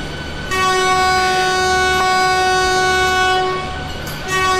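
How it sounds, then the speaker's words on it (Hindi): Vande Bharat Express electric train at New Delhi station sounds its second horn: one loud, sustained, multi-tone blast lasting about three and a half seconds, close by, set against a low rumble. "इसका जो दूसरा वाला हॉर्न है ना चलो मैं आपको वो भी सुना के दिखा देता हूँ"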